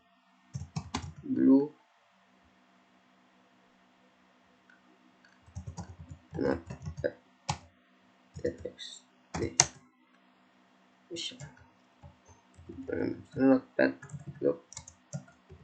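Sparse clusters of clicking keystrokes on a computer keyboard as Linux commands are typed, with a voice speaking quietly between bursts of typing and long silent pauses.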